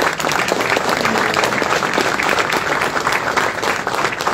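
The audience at an MMA Grand Prix Bordeaux press conference applauds a fighter, a loud, dense, sustained round of clapping that holds steady throughout.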